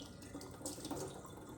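Water running and trickling out of a container of soaking amaryllis and ranunculus bulbs, a soft steady pour with faint dripping, close by and fairly quiet.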